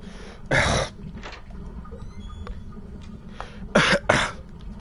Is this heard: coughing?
yes